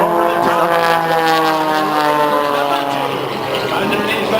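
An aerobatic airshow plane sweeps low over the ground and passes beneath ribbons, its engine roaring loudly and steadily throughout, with a slowly shifting pitch.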